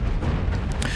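Ship explosion in the Starsector space combat game, a short, loud rumbling boom that fills the whole moment without any voice.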